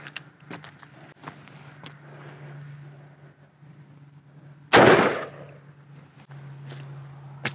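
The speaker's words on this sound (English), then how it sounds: "So next up, we'll shoot with a 44 mag." A single loud gunshot from a Taurus Raging Hunter .44 Magnum revolver firing a 270 grain round at a target about 10 yards away, a sharp blast amid quiet outdoor background with faint shuffling before and after.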